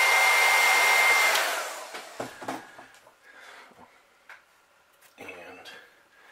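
Heat gun blowing steadily on fresh paint on a Lakeville pumpkinseed crankbait, a loud close whoosh that stops after about two seconds, followed by faint clicks and small handling sounds.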